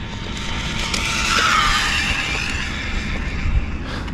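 A Losi Grom RC NASCAR car with a 5400 motor drives past with a continuous high whine and a hiss of tires that rise and fade over a few seconds, with no talking.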